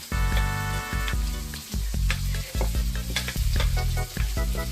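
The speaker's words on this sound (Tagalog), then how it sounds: "Once you can smell the aroma of the garlic, add the onions, then saute." Garlic and onions sauté in sesame oil in a wok, a loud, close, continuous sizzle with repeated scraping stirs and clanks layered over a low steady hum.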